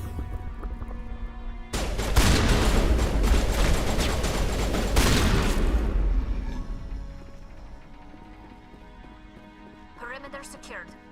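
Pistol gunfire in the Mass Effect video game, a dense burst of rapid shots and impacts lasting several seconds, then fading into quieter background game sounds with a few faint later noises.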